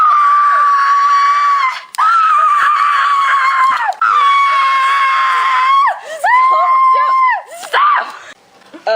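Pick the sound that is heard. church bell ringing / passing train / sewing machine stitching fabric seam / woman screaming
woman screaming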